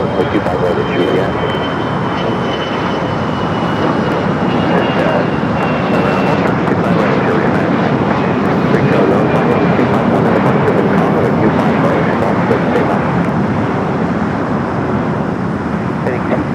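An airliner takes off from runway 25 right at Los Angeles LAX, producing a loud, sustained engine roar that holds steady and close for the whole stretch, with radio chatter faintly audible underneath.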